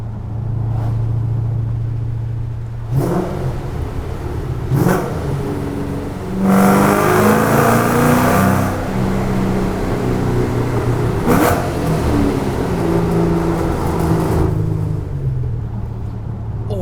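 A Ford Shelby Mustang GT500 V8 echoes loudly through tunnels, repeatedly revving and accelerating in strong bursts between steady droning cruise, with no talking.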